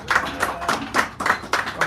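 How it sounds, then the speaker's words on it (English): A small café audience at a San Francisco poetry hour claps for the next poet coming up, a loose, uneven patter of hands in bursts that swell and dip, fairly close and without speech. "Give him a round of applause as he comes up, please"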